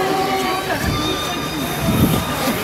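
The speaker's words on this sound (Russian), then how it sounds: "тут поезд ходит. Тут ледяной городок такой. Вот он поезд, сюда садятся люди, дети. И вот здесь он по рельсам ходит" Small amusement park ride train running on rails at a winter park with an ice town, a steady rolling rumble with faint wheel squeal throughout, at moderate distance amid outdoor noise.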